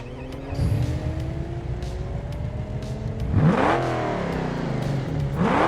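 Upgraded bigger engine of a car in the BeamNG driving game revving loudly, rising and falling through the gears in a steady near drone with two sharp surges, no talk over it.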